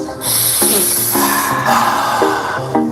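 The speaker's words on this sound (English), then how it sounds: "alkaline breathing, which is a powerful nose inhale and a sigh of relief out the mouth." Alkaline breathing, a powerful nose inhale followed by a sighing exhale through the mouth, sounds as one long steady breathy rush lasting nearly three seconds, close and loud, with soft music tones beneath.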